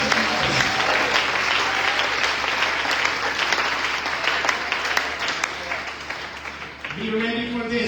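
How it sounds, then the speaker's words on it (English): A church congregation at an anniversary service claps hands together in steady, dense applause for about seven seconds before a voice begins speaking. "Can we clap our hands to the Lord Jesus?"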